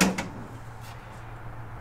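A drawer slides and bumps shut once inside a 2022 Outdoors RV 22FQS Titanium travel trailer, a short, close knock at the start that fades into quiet interior hum.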